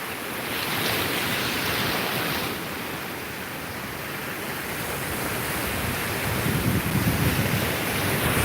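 Ocean surf on a public beach with warm water, washing in as a steady broadband roar that swells and eases, with wind rushing across the microphone and no voices.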